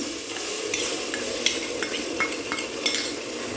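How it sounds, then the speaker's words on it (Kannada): Green chili paste going into chicken biryani masala frying in oil, a steady loud sizzle with a spatula scraping and clinking against the pan in irregular strokes, close up and without voices. "ಇವಾಗ ಹಸಿಮೆಣ್ಸಿನ್ಕಾಯಿ ಪೇಸ್ಟ್ ಮಾಡ್ಕೊಂಡಿದ್ನಲ್ವ ಅದನ್ನು ಹಾಕೋತಾ ಇದ್ದೀನಿ"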